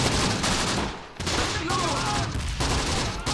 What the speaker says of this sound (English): this MG34 looks like it's doing a great job at keeping the enemy pinned